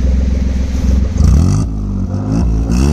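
Modified motorcycle exhaust revving up close, a loud throaty engine note rising and falling over three seconds with a rough, clattering edge.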